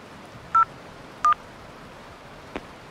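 Keypad tones ring out as a number is dialed on a mobile phone: two clear beeps about a second apart, then a fainter third, alone against quiet background hiss.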